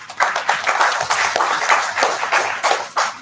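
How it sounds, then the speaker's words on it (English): Workshop audience applauding a panel of speakers, a few seconds of steady, fairly close handclapping from a modest crowd in a hall. "give a round of applause for them"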